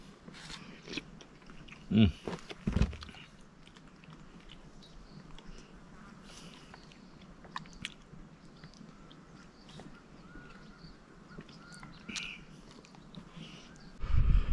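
Someone eating a meal outdoors on a hiking trail, with close, soft chewing and biting sounds, a few louder crunchy bites near the start and end over quiet background.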